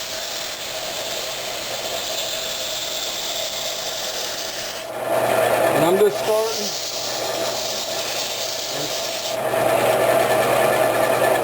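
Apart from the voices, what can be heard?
sanding walnut on a wood lathe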